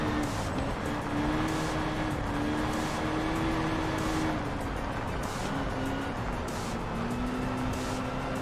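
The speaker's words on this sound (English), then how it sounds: "I love kind of hearing the engine just subtly backfiring a little bit every time we shift" A race car in the Enthusia Professional Racing video game, its VTEC engine droning loud and steady, the pitch dipping and climbing as gears shift, with faint pops of backfire at each change and no talk.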